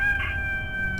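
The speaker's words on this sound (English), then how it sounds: "The sun has risen and the rooster crows" A rooster crows in the adventure game A Vampyre Story, one sustained call that rises briefly near the start, close and fairly loud over a steady low rumble of background music.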